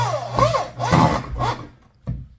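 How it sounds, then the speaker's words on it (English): A power driver zips screws into glued, clamped wooden pieces, three short grinding bursts close up followed by a brief final one. "now of course I want to screw them together, and we'll zap this one in real quick"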